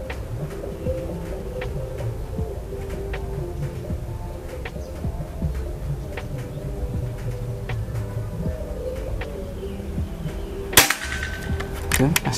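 Outdoor quiet with distant birds, then a single sharp PCP air rifle shot fired with VS Dome pellets cracks out near the end, loud and close.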